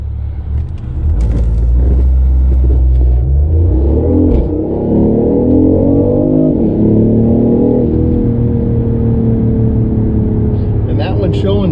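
A BMW i8 with a Kassel Performance tune launches from 0 to 60, its engine roaring up through rising revs and gear changes, loud and continuous inside the cabin.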